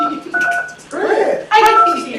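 Telephone keypad tones on a phone conference line punch in a conference code as short, clear beeps, with a recorded voice prompt speaking between and over them.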